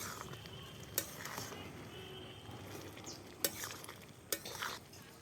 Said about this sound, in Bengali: এক চামচ ধনে গুঁড়ো দিয়ে এবার ভালো করে নেড়ে চেড়ে নেব।